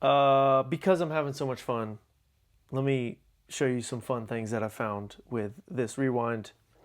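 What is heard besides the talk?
None of the usual background noises is heard.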